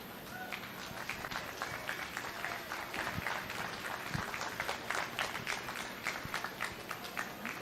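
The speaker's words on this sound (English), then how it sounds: "Let's give these seniors a round of applause" Crowd at a county fair junior livestock showcase gives the seniors a round of applause, a steady, dense clapping at moderate level with a few louder thumps and murmuring in the background.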